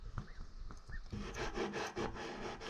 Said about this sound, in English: And rub some more lemongrass oil around your house.